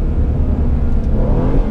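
An Aston Martin DB11 Volante at full speed during a Gumball rally run in Japan: steady, loud low engine drone with wind and road roar, heard from inside the car without talk.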